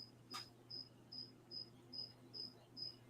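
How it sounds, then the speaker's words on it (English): Crickets chirp in quiet night air, a regular pulsing trill repeating about every half second, faint and steady, with a brief extra click near the start. "Crickets."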